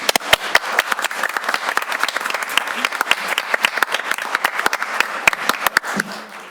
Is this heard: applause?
yes